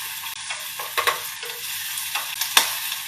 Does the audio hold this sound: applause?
no